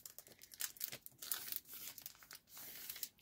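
The sides of an old paper atlas page are folded for gift wrapping, producing close, crisp crinkling and rustling in uneven bursts, quiet overall, with no talking.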